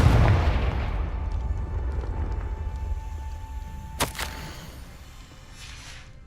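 A Confringo fire spell bursts in Hogwarts Legacy as a sharp, loud crack over a low rumbling game backdrop, followed by fading ambience.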